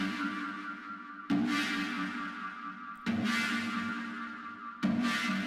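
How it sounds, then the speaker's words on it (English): Synth chords run through the Coldfire distortion plugin's Signal Beefer preset, with compression, pre-distortion and two strong algorithms in series: three dense, gritty sustained chords struck about every second and a half, each decaying before the next, loud and alone. "with this preset, which uses some compression, pre-distortion, and two very strong algorithms in series, it sounds like this."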